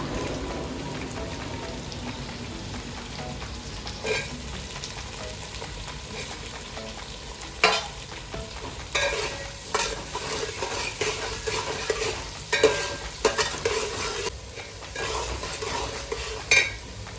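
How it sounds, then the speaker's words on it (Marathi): Onion being stir-fried in a pan for homemade fried rice, a soft rain-like sizzle that grows busier as repeated scraping and tossing strokes of the spatula come through in uneven bursts. "आता त्यात कांदा टाकून परतून घेऊया।"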